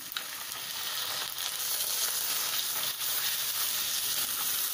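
Vegetables, green chickpeas, pigeon peas, field beans and soaked peanuts fry in a pan for a Marathi bhogichi bhaji, giving a steady, dense sizzle and hiss that continues without pause and with no talk.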